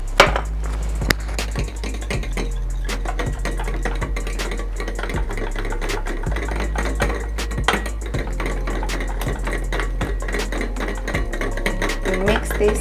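A spoon stirs melted butter into a chicken coating mixture in a bowl, giving steady scraping and clinking strokes in an even rhythm, close and fairly loud with no talking.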